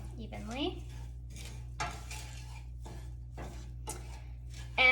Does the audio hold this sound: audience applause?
no